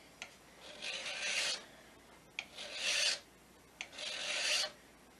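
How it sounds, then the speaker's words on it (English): A steel card scraper being filed across metal, three long rasping strokes each opening with a sharp bite, close and clear with short quiet gaps between them. "I want to make sure I'm hearing it scrape metal all the way across"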